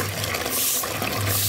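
Water sloshing and running steadily as a child plays in it, a continuous close splashing wash with no talk.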